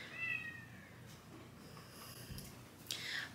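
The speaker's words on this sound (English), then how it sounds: "I don't know if you can hear our cat." Pet cat meowing indoors, a few faint, brief cries with soft snorting breaths in between against a quiet room background.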